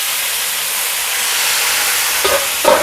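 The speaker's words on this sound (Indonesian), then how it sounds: "Terus ini aku goreng." Flour-coated chicken tails fry in hot oil with a steady, dense sizzling hiss, close by, broken by a couple of brief louder crackles near the end.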